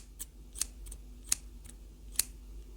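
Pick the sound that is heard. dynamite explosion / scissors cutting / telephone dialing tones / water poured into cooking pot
scissors cutting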